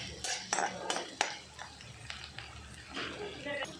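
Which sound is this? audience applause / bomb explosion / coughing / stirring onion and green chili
stirring onion and green chili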